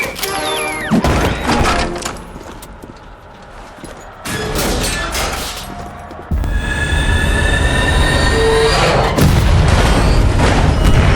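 A train rolls along tracks in the zombie shooter Zombie Army 4, with loud metallic squealing of wheels, heavy thuds and a continuous rumbling roar that grows louder and denser toward the end.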